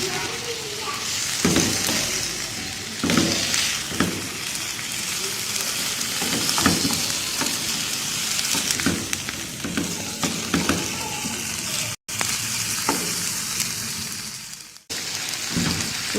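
Chicken with capsicum and onion frying in a pan, a loud, steady sizzle broken by repeated stirring and scraping strokes, with a couple of brief cutoffs.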